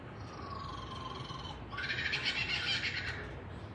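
Lyrebird imitating a kookaburra's call, rising into a loud burst of rapid, cackling laughter-like notes after a softer whistled opening, heard alone with no talk.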